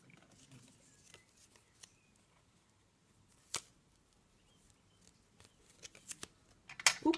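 Scissors snip through 3D foam while flowers are cut out for handmade cards, giving sparse, quiet cuts spread over several seconds, with a few sharper clicks and a cluster of snips toward the end.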